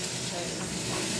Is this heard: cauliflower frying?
yes